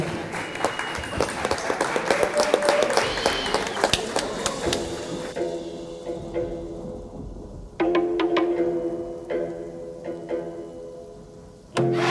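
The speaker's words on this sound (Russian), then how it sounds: "Аплодисменты ваши" Crowd applause at a boxing event, a dense clatter of clapping that gradually thins out, followed by scattered claps with a commentator speaking over them.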